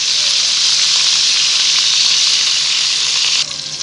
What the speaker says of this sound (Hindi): जब तक इसका गोल्डन कलर नहीं आ जाता हम इनको मीडियम फ्लेम पे फ्राई करते रहेंगे।